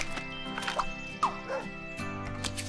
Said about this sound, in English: Now for our next item, we make a dumb dog.